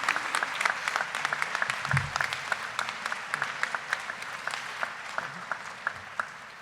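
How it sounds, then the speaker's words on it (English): An audience at a 2021 graduation ceremony claps for an honorary diploma recipient. The applause is sustained, with distinct sharp individual claps popping out of the crowd and a faint voice briefly underneath. "One more round of applause, everybody"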